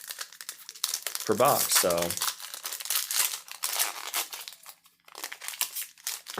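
Ikoria Magic booster pack wrappers are torn open with loud, close crinkling and ripping foil noises that come in bursts, while someone talks over and between them.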